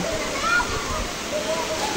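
A strong water jet pours from a hotel pool feature in a constant splashing rush, close and fairly loud, with a voice talking over it.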